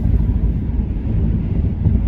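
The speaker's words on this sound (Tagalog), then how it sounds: "Kaya kagaya nito, mahangin dito ngayon, tapos may kunting snow." Wind blowing on a snowy day in Edmonton, Canada, a steady low rumbling roar buffeting the microphone throughout, loud and continuous with no voices.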